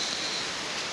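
Heavy rain pouring down in Kinshasa during an election day, a dense, even hiss of falling water that fills the whole second without pause or voices.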